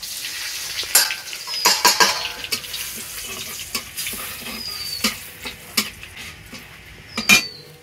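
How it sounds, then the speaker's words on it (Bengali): Cardamom, cinnamon, dried chillies and bay leaves crackle in hot oil for tempering, with scattered sharp pops and sizzles and the scrape and clink of stirring in the pan. "তেলের উপরে ফোড়নে দেব 2টো এলাচ আর একটু দারচিনি আর 2টো শুকনো লঙ্কা, আর দেব এই 2-3টে তেজপাতা।"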